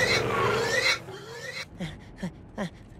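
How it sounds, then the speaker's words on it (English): Cartoon pigs oink in a noisy scene. Squealing and grunting comes first, followed by three short, distinct oinks spaced evenly and heard fairly close. "Pigs. Pigs everywhere."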